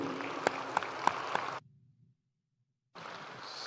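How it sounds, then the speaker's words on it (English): Applause for speakers and facilitators at a plenary session in an atrium, with a few sharp individual claps standing out over the crowd before it cuts to silence and then resumes. "Please join me with a round of applause to our speakers and facilitators."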